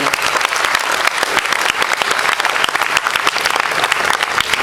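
A concert crowd applauds the opening band at a show at Debaser, with loud, dense clapping and scattered cheers holding steady throughout.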